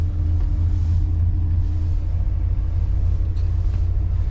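A 1985-era Chevrolet Suburban Squarebody with an NV4500 transmission idles on choke, its engine giving a loud, steady low rumble with a slightly uneven pulse, heard close from inside the cab.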